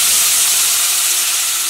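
Tomatoes go into a hot pan on a low flame and hiss loudly, a close, steady, bright sizzle with no speech over it.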